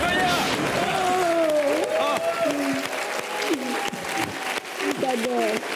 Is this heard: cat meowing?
no